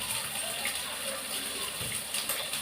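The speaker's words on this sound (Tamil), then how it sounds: "அடுத்தது கொஞ்சம் கருவேப்பிலை கழுவிட்டு" Water runs steadily from a tap while curry leaves are washed in a home kitchen, a faint continuous gush with soft splashing and no talking.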